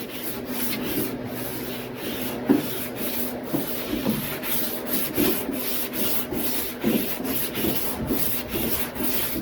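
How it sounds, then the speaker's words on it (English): Body filler over a fiberglass rust-hole repair on a car is sanded flat by hand, giving a steady back-and-forth rubbing rasp with a regular stroke rhythm, close and fairly loud. "Make sure you sand it flat."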